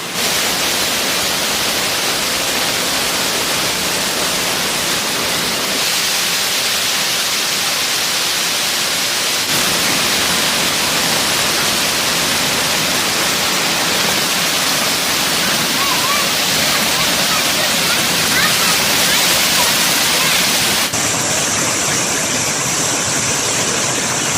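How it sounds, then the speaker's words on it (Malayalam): Areekkal waterfall pours during heavy monsoon rain, a dense, loud, unbroken roar of rushing water, with a few abrupt shifts in level. "അരീക്കൽ കുന്ന് വെള്ളച്ചാട്ടം അടിപൊളിയാണ്"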